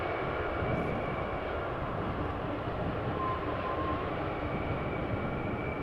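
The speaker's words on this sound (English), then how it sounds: "It was a nice landing, but it was a very quiet landing." A plane lands at Amsterdam Schiphol Airport, a steady low engine rumble and broad roar holding evenly at moderate distance, with no distinct reverse-thrust surge.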